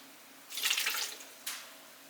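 Reddish-brown chile soaking water pours into a blender in a short splashing gush, followed by a second brief splash, close and fairly loud with no talk.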